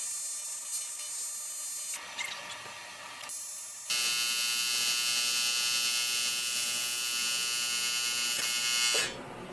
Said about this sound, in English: now I'm going to turn this off while I go clean my tungsten